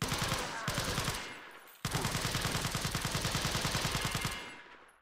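Rapid automatic gunfire in Resident Evil 4, two loud sustained bursts of clattering shots separated by a short gap, the second burst longer before fading out.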